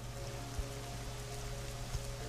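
Rain falls steadily in the video game Memento Mori, a constant, even hiss at low volume under a faint steady hum, with two soft thumps.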